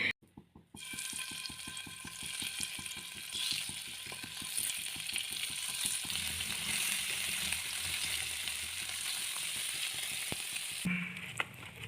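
Fish frying in a pan in a home kitchen, a steady close sizzle and crackle running throughout, with some rhythmic clicking near the start and a brief quieter break near the end.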